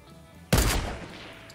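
A single loud, close gunshot in the video game Fortnite cracks out sharply after a moment of quiet and then rings down over about a second, with no other shots following.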